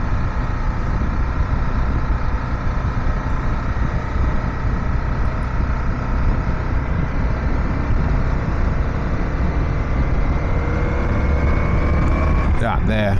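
Aprilia Caponord motorcycle engine downshifting into a lower gear on an uphill stretch during a group ride, a steady loud drone mixed with heavy wind rush, with a brief change in engine note near the end.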